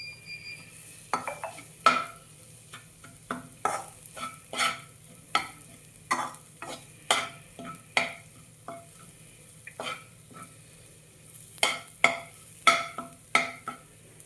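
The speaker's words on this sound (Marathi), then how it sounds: "आपण एक वाटी तिळाची पावडर बनवली होती ती टाकून घेणार आहे ती परतून घ्यायचे आहे" Sesame seed powder is sautéed in a pan for a vegetable dish, with a spatula scraping in spaced, crisp strokes, sometimes in quick pairs, over a faint sizzle and a quiet low hum.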